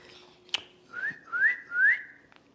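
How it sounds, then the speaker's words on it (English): A person whistles a rising call three times in succession to summon a trained bird of prey during a training session with a mouse as the reward, with a sharp click just before the whistles. "So I'm going to whistle, and he'll come in for this mouse"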